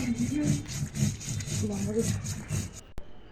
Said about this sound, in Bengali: আমি শিলনোড়ায় বেটে নিলাম